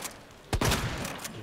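Gunfire in the Resident Evil 2 Remake video game: after a quiet stretch, a loud sudden shot lands near the middle, followed by a dense burst of rapid reports and echoing thuds that keeps going to the end.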